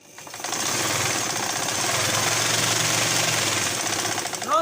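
Sewing machine running steadily through raw silk fabric while stitching a Zahra cap, a continuous close mechanical whir held for several seconds with no talk over it.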